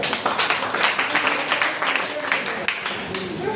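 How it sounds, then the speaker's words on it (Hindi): Audience applause at a youth training camp held in a college hall, a dense patter of clapping from many hands that stays steady across the whole stretch, with voices mixed in underneath. "तालियां एक बार"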